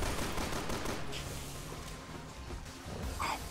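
Rapid gunfire from the video game Resident Evil 6 in Mercenaries mode, a dense burst of shots over a busy game soundscape, loud and continuous with no talk.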